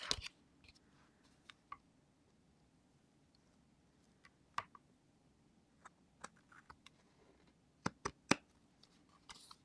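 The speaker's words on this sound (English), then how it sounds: "I can take my big, huge scissors and I'm going to" Big, heavy scissors trim the edges of die-cut paper in a quiet room, giving scattered crisp snips and clicks, some single and some in quick pairs, close to the listener.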